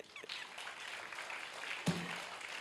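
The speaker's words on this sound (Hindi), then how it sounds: "ताली बजाओ अपने लिए।" A church congregation clapping, a faint, steady patter of applause from a crowd heard from a distance, with one sharper knock near the end.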